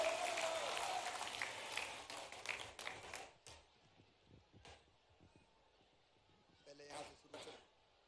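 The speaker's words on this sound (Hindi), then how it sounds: "शिवराज सिंह जी चौहान को जोरदार तालियों के साथ आमंत्रित करता हूं" A rally crowd in Manasa, Neemuch, applauds to welcome Shivraj Singh Chouhan: a loud wash of clapping that thins after three seconds into scattered claps, with brief renewed bursts and crowd noise later.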